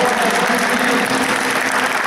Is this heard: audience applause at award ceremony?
yes